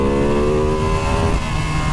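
Ducati Panigale V2 motorcycle accelerating hard on a wet road, a loud, close, continuous engine roar with rising harmonic tones that shift partway through, heard alone without speech.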